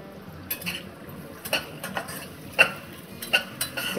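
Chopped garlic stir-fried in a pan for pepper paneer: light metallic scrapes and soft clinks of a spoon against the pan, irregular and fairly faint over a low sizzle, with no talking.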